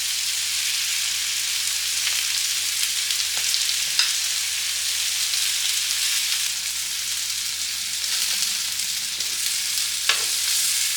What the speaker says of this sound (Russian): Все это жарится 3 минуты